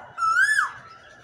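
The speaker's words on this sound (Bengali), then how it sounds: "এই যে বসন্তের কোকিল ডাকতেছে" An Asian koel calls in spring, giving one clear whistled note that rises and then drops away. The bird sounds moderately near, with only faint background noise.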